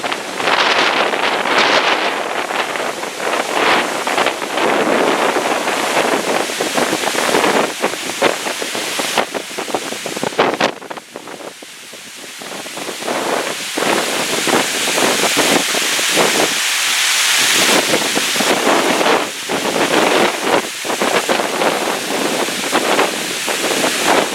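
Strong wind roars across the microphone on a boat at sea, loud gusty buffeting with bursts of rushing air and waves, easing briefly midway before surging again.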